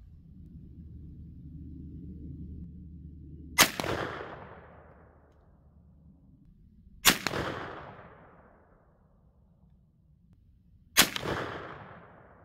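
A Mossberg .410 shotgun fires Federal Power-Shok 2.5-inch quarter-ounce slugs at an outdoor range, three sharp, loud reports spaced several seconds apart, each followed by a long decaying echo.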